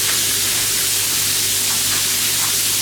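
Stock reducing in an open shallow pan on the stove, a constant loud hissing sizzle with a faint steady hum beneath, no pauses and no talking.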